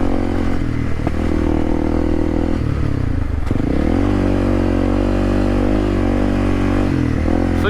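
A dual sport motorcycle rides an all-dirt road toward Florence, Arizona; its engine drones loud and close, with a dip and a rise in revs midway and gravelly clatter under the steady roar.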